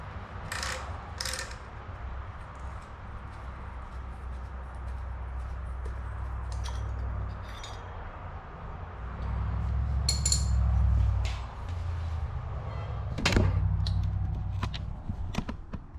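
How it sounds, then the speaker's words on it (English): Carburetor bowl being taken off an old abandoned garden tiller: scattered metallic clicks, taps and scrapes of tools and small parts, close and fairly quiet, with a low steady background hum throughout. "Take this bowl off, see what it looks like inside."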